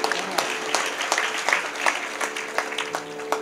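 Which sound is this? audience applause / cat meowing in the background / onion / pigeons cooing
audience applause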